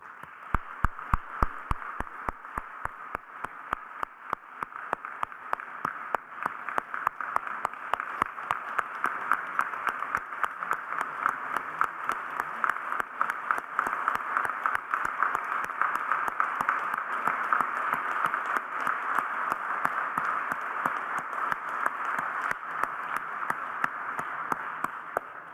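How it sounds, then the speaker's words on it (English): A crowd applauds at a Holocaust remembrance ceremony honoring a WWII Army platoon sergeant of the 157th Infantry, steady dense clapping sustained for about 25 seconds with a few sharper individual claps at the start, no voices over it. "I'd like to give a round of applause to Chan."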